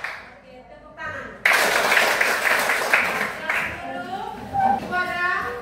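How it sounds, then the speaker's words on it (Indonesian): Schoolchildren in a classroom burst into applause, a sudden loud wave of clapping that runs for about two seconds and then fades as children's voices chatter. "Oke, tepuk tangan."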